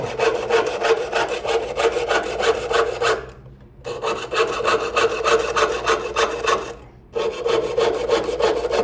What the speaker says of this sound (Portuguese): Então vou serrar aqui toda a extensão.